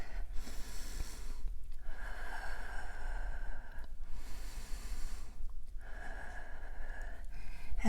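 Slow, deep breaths during a held yoga pose in a Manipura yoga class: several long, airy inhales and exhales in an even rhythm, close and breathy, with short quiet pauses between them and no talking.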